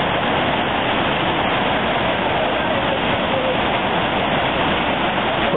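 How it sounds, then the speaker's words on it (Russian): A swollen stream in New Hampshire rushes as a river, a dense, even roar of water that stays loud and unbroken throughout, with no voices. "Ручеек обычно идет, а сейчас вот такая вот речка."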